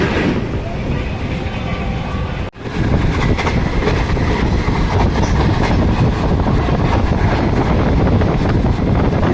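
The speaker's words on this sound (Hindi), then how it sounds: "ट्रेन साहिवाल की तरफ मूवमेंट कर रही है" The Shalimar Express passenger train runs at speed toward Sahiwal, a loud steady rumble of wheels on rail with rattling carriages and wind buffeting, continuous throughout apart from one brief dip.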